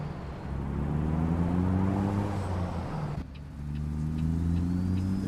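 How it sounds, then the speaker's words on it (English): Heavy truck engine from American Truck Simulator running with modded engine sound, a steady low rumble with harmonic drone, dipping briefly midway before resuming at a steady load, no talk. "There are free mods that will help you get engine sounds like this"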